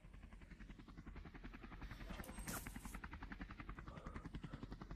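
Steady rotor thumping of a helicopter in a video game, loud and continuous, with a brief rushing swell in the middle; a voice speaks faintly underneath.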